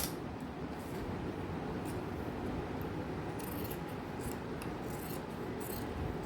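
Scissors cutting through fabric for a frock-style nightie, a steady close rasping snip repeated throughout with no talking.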